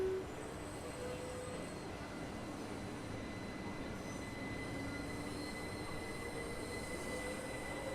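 Sound-modded class 165 train in Train Sim World 6 running steadily, a continuous rumbling cab drone with faint whining tones, even and moderately quiet throughout with no talk.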